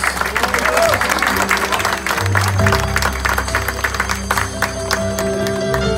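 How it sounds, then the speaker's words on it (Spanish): Guests at a quinceañera clapping loudly as a dama and her chambelán are introduced, a continuous round of applause under music and an announcer's voice. "El aplauso fuerte para ellos."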